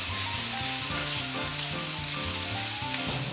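Zha cai and mushrooms tossed briefly in a hot frying pan for a chilled sansho soba, a steady loud sizzle with background music running throughout.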